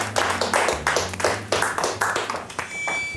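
Studio audience on a Russian television talk show breaks into loud, sustained applause, the clapping surging in several dense waves over a few seconds with no voices over it.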